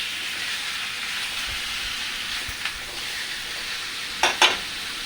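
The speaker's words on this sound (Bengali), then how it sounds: "এই কুমড়োটাকে একটু ভালো করে কষিয়ে নেব" Pumpkin sautés in a pan with a broad, hissing sizzle that holds steady, a few soft thumps of stirring, and two sharper scrapes near the end.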